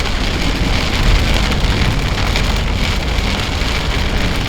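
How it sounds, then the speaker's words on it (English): Heavy rain pours down steadily and loudly, a dense unbroken hiss of drops drumming on surfaces close by, with no voices over it. "We just got doused by the rain for a good couple of hours"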